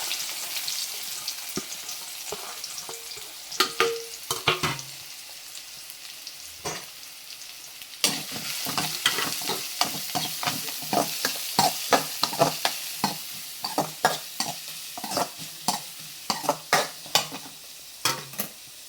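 Onions frying for egg burji, a loud close sizzle with repeated rhythmic scraping stirs that grow busier and more regular in the second half.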